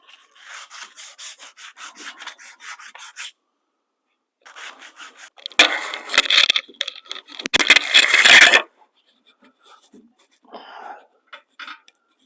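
Drill press parts from a Harbor Freight 17-inch drill press being polished by hand, with bursts of brisk rubbing strokes separated by silent gaps, growing louder and harsher in the middle before tapering off.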